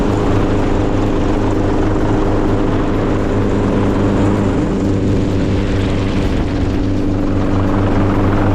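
A helicopter used for wild boar hunting roars loud and close, its rotor thump and engine drone holding steady and unbroken throughout with no voices.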